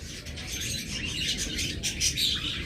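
Caged lovebirds chirping close by: a busy stream of overlapping high tweets and calls over a low background rumble, with no voices.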